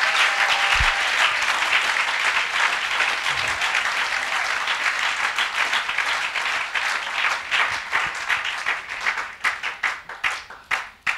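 Church congregation applauding in thanks to the Lord during a French-English thanksgiving service, a dense, sustained burst of clapping from many hands that thins into scattered claps toward the end.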